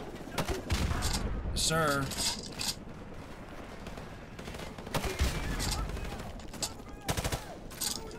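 Rapid bursts of gunfire from Call of Duty: Modern Warfare Remastered crackle through the whole stretch, loud and close, with a voice talking over the shooting.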